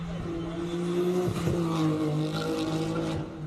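A six-cylinder classic car races up a hill at a speed event, its engine note loud and sustained with steady harmonic drone, shifting pitch slightly as it passes, with a faint tyre squeal and crowd ambience behind.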